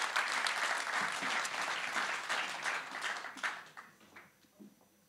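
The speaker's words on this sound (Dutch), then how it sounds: "Mag ik een applaus voor de initiatiefnemers Marco Stout en Sanne van Manen" An audience claps loudly at a mobility and spatial planning talk show, the dense applause starting strong and gradually thinning out into scattered claps before fading.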